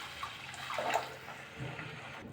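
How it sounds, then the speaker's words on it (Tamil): Water poured into a pot of tamarind pepper curry (milagu kulambu), a brief soft splashing and trickle heard close up with no talk. "தண்ணி சேர்த்துக்கிறேன்."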